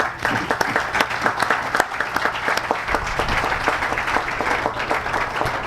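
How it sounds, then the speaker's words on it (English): Steady applause from an audience, dense overlapping claps sustained throughout at fairly loud level. "Please applaud Inspector Bailey."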